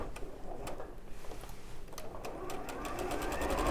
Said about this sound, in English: So I'm just sewing around all 4 sides.